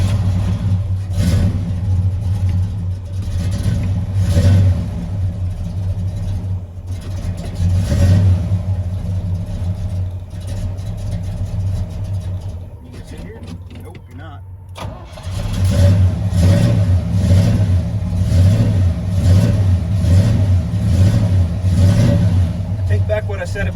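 A 1940s-era Ford engine cold-starting on a 40-degree morning without choke, cranking then catching and revving unevenly, loud and close, with a brief lull before running again; someone talks over it.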